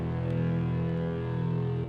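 A processed guitar note with a short slapback delay, mixed about half wet, sustains steadily at moderate level for about two seconds, then stops abruptly, with no voices.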